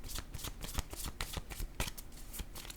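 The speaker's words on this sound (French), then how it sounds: "Je vais déposer une carte ici." Playing cards handled on a table during a card reading, a quick run of crisp riffling snaps and flicks, close and fairly soft, with no talking.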